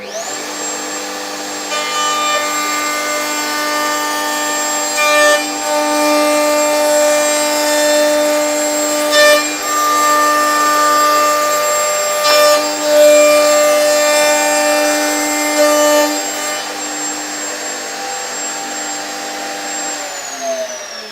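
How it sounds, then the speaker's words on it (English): A wood router cuts a dovetail frame against the bit's rotation, making a steady high-pitched motor whine with a harsh cutting rasp that swells and dips for about twenty seconds, loud and close, without talk. "cut the correct method, which is against the rotation of the router bit"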